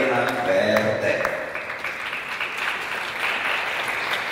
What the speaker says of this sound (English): a warm applause for the youngest architect that participates to the student contest